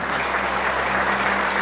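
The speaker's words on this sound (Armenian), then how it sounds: "Բարձր ծափարենք մեր որոշ հերոսների և զինվորների տղաներին" Loud, steady applause from a crowd at an Armenian wedding celebration, honoring heroes and soldiers, dense and continuous throughout.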